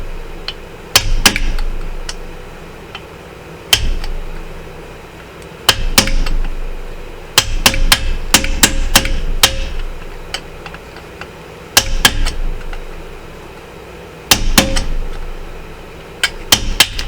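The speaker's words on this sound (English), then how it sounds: "Get you a good flat punch," Small hammer striking a flat punch on a Suzuki GSF600 Bandit motorcycle part: sharp metallic taps come close and loud, singly and in quick clusters of two to five, separated by short quiet pauses.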